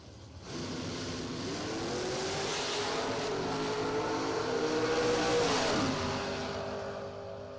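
A 1968 Camaro drag car roars down the track in one sustained, loud engine run, the pitch climbing steadily as it accelerates before fading near the end, with no talk.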